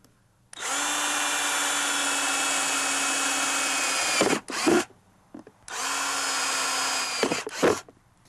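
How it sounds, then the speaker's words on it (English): A power drill bores holes at the corners of a traced downspout outline on a rain barrel, running in two sustained whining bursts of a few seconds each, loud and close, with brief clunks and handling noise as the bit breaks through and stops. "And I'm going to drill a hole at each corner."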